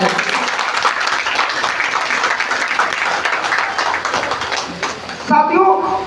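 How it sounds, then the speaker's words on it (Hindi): Applause from an audience at a Hindi motivational seminar, a broad steady wash of clapping that cuts off near the end as a voice begins speaking. "इनके लिए चाहेंगे एक बार जोरदार ताली बजाएं।"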